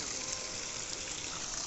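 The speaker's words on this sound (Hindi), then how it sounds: "पानी भी फिल्टर होता जा रहा है यहाँ से" Steady broadband rush of water flowing through a fish pond filter, continuous and fairly close, with no clear voices over it.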